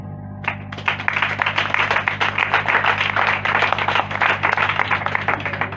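A crowd claps steadily for several seconds at the official handover of a three-classroom school building, dense applause that starts sharply and holds at a full, even level.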